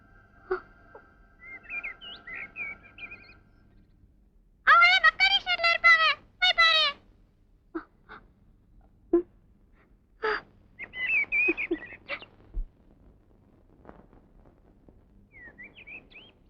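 Birds chirp and call in a Tamil film scene, with a dense burst of rapid tweets in the middle and scattered shorter calls before and after, clear against a quiet background.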